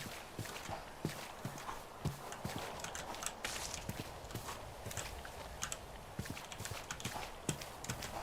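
Horse hooves clip-clop on the ground in the TerraFirmaCraft video game, a quiet, steady stream of irregular thuds over soft ambient background.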